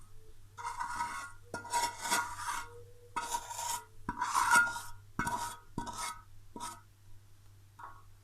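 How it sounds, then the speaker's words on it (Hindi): Potato samosa filling being mixed with spices and green chilies in a bowl, a series of scraping, rubbing strokes in uneven bursts with short pauses between, close and fairly loud with no talk. "अब इसको अच्छी तरह मिक्स कर लेंगे।"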